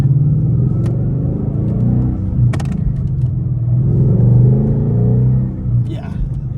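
Ford Mustang GT S550 with an SR Performance axle-back exhaust gives a loud, steady low rumble that swells and eases as it drives nearby, with brief clicks and handling noise over the top.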